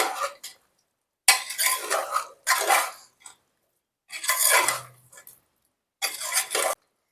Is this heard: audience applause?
no